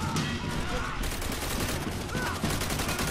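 Gunfire in the World War II shooter Call of Duty: World at War, with dense volleys of rifle and machine-gun shots crackling continuously and loudly throughout the stretch.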